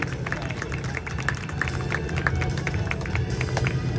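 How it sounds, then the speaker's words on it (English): Crowd applause at the Oregon International Airshow in McMinnville, greeting the Yellow Thunder aerobatic act: steady, dense clapping from a large outdoor audience, continuous for the whole stretch over a low rumble of background noise. "A big round of applause, everybody, for Yellow Thunder and the Entrail Squirrel Cage maneuver."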